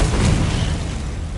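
A Confringo fire-blast spell in Hogwarts Legacy bursts with a loud, dense boom that fills the moment, then decays into a rumbling tail.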